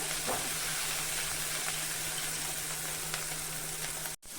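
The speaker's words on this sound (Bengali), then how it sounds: "তো মশলাটা আমি খুব ভালো করে কষিয়ে দিব" Masala spices fry in oil for shahi paneer, giving a steady, close, continuous sizzle and hiss with no voices.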